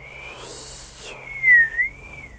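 A human voice imitates a fierce wind whistling through cracks in brick walls, a thin rising and falling whistle with a brief breathy rush, close and alone.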